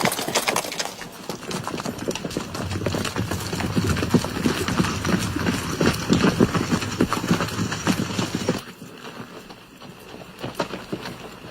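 Horses ridden by vaqueros gallop in a fast, thudding clip-clop of many hooves, loud and sustained for about eight seconds before the pounding abruptly thins out.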